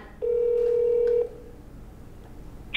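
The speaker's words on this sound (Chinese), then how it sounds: "想不到几声就听到语音信箱，就是他挂你电话。" An iPhone call rings out in a single steady electronic tone lasting about a second, followed by a quiet line and a brief bright beep at the end.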